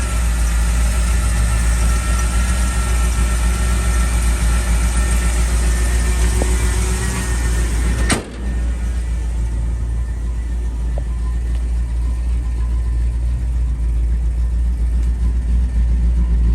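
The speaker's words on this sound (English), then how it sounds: "You can see how smooth running the engine is." A 1971 Ford F250 Ranger XLT Camper Special idles with a steady, smooth low engine rumble up close, one brief knock midway, no talking.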